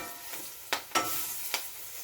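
Curry frying in oil in a pan with conch for a Jamaican-style stew, a soft steady sizzle broken by three sharp clinks or stirring scrapes.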